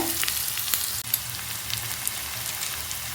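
Onions sautéing in a pan for a chutney give a steady, close hiss and sizzle with small crackles throughout, with no talking.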